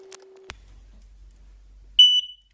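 WisuLink Wisualarm smoke detector sounding during a smoke test, a single sharp high-pitched beep near the end after a quiet stretch, loud and close.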